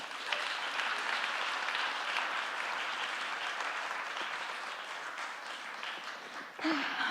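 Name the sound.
audience applauding themselves at climate summit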